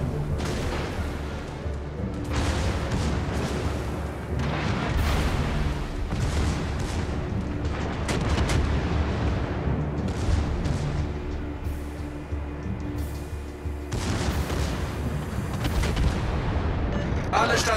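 Artillery fire support strikes land in a naval combat video game, a steady barrage of heavy booms and rumbling blasts repeating for the whole stretch, loud and continuous under game noise.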